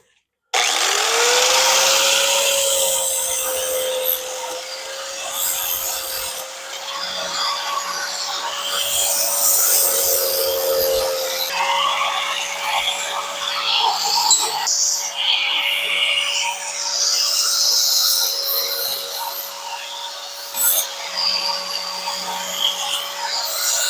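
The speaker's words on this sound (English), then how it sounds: "I'm just going to do a little bit of cleanup on my minibikelarry stretch tabs, and I'm going to bevel both sides." An angle grinder works steady and loud without pause, cleaning up and beveling steel stretch tabs on a minibike frame, with a sustained whine and grinding contact noise.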